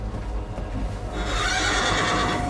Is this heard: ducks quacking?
no